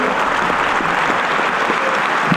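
Steady, dense applause from a live audience at a comedy show fills the room at an even, moderately loud level, with no talk over it.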